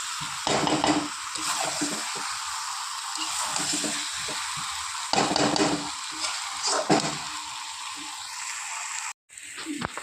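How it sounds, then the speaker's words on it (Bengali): Chicken pieces sauté in a pan with capsicum and green chilli for a light curry, giving a close, crackling sizzle broken by scraping stirs and a few clanks of the utensil against the pan. "মাংস ভালো করে কষিয়ে নিয়েছি।"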